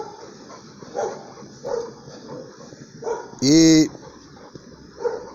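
A nervous female dog shut in an enclosure gives one loud, sharp bark amid softer muffled noises, with a person talking nearby.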